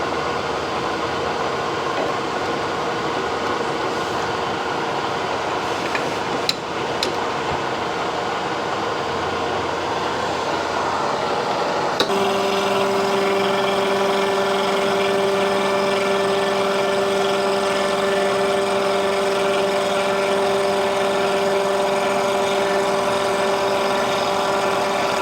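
A metal lathe takes 20-thousandths cuts, with a steady machine hum that sharpens midway into a stronger tonal whine as the cut engages, continuing evenly to the end with no talk.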